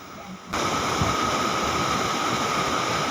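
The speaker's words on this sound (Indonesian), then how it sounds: "masih ada air mengalir kayak gini ya" Water flows in front of a house, heard as a dense, steady rush that starts abruptly after a brief quiet moment and continues evenly and loudly to the end.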